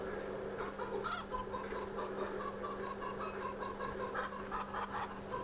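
Chickens cluck steadily in a busy, continuous chorus in Farming Simulator 2013, with bright repeated calls over a constant hum and no one speaking.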